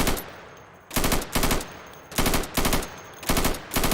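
Bursts of automatic gunfire from the video game Insurgency, shot at targets through plywood, loud and close in three paired volleys with short gaps between them.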